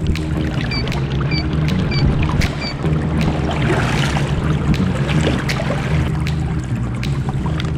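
An electric trolling motor drives a Black Cat Battle Boat belly boat at full throttle on a river, giving a steady close whirring drone over constant water splashing, with faint bird chirps in the background.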